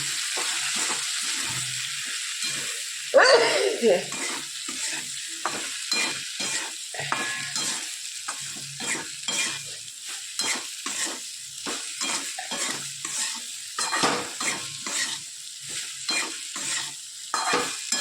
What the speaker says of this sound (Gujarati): સરસ બધું આપણે મિક્સ કરી લઈએ